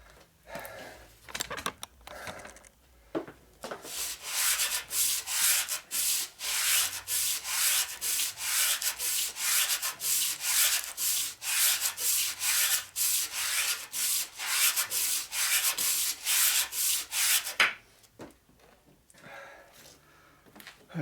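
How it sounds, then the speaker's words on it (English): A grinder works over a 1947 Harley-Davidson EL 74ci knucklehead motor case under repair, a steady loud abrasive rasp with rhythmic pulses running about fourteen seconds, bracketed by brief quieter scraping at the start and end. "we're purposely grinding more a lot heavier on this side than this side"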